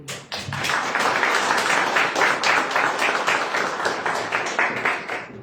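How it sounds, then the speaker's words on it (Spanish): Audience applause at the close of a session on electoral reform at the Tlaxcala state congress: sustained clapping from a room full of people, dense and steady for several seconds before thinning slightly. "solicito un aplauso"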